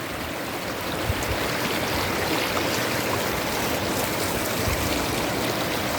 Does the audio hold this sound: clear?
yes